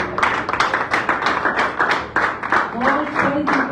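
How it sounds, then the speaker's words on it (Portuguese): An audience at a church prophetic ministry workshop claps in steady, fairly loud rhythmic bursts close by, with a voice speaking over the clapping. "Vem dar uma salva de palmas para ti mesmo"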